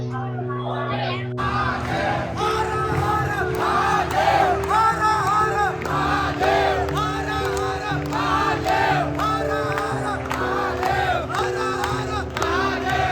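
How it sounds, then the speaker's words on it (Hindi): Huge crowd of pilgrims at Mahakaleshwar temple in Ujjain, many voices chanting and shouting together in rhythmic waves, loud and continuous under steady sustained tones. "अथाह भीड़ हो चुकी है अभी से"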